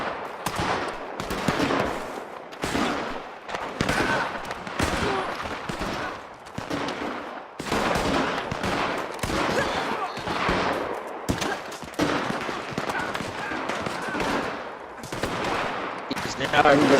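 Chaotic multiplayer gunfire in Red Dead Redemption 2 Online, with many players shooting at once: dense, continuous volleys of rapid shots and bursts, loud and close, with brief gaps, under occasional voices.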